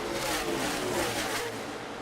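NASCAR Cup Series stock cars race at Dover International Speedway, a continuous loud roar of engines at full throttle with no break, a dense wall of sound from the field passing close by.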